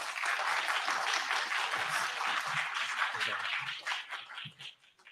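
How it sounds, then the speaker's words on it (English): An audience at a reunion event claps loudly and steadily, the dense applause thinning and fading toward the end, with a few voices faintly mixed in. "So, round of applause for Sarah."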